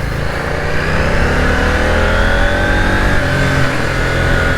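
A 2021 KTM 890 Duke R engine pulls hard under acceleration on Sydney roads, its revs climbing steadily and loudly through quick-shifter gear changes with wind noise, close and continuous.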